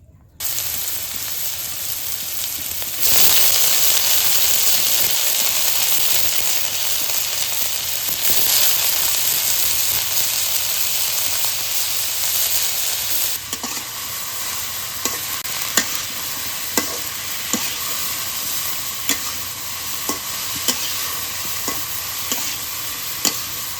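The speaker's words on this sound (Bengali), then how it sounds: "যেহেতুই যত্ন করে আমদার না খেয়ে কাঁকরোল একটু গন্ধ করে, ওই জন্য ভালো করে তেলের মধ্যে ভেজে নিব" Teasel gourd (kakrol) pieces frying in hot oil, a loud, steady sizzle throughout, joined in the second half by regular spatula taps against the pan.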